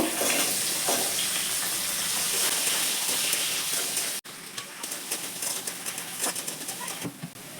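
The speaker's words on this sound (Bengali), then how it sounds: "এই তেলেই আমি কেটে রাখা আলুগুলো দিয়ে দিচ্ছি আলু ভেজে নেব" Cut potatoes sizzle in hot oil left over from frying prawns, a steady loud hiss that drops briefly then resumes with small pops and clatters, no voices.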